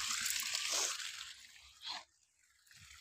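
Water from a 1991 bore well, now fitted with a new motor, splashes and trickles nearby in a steady wash, rising to a brief gush before dropping to a faint dribble.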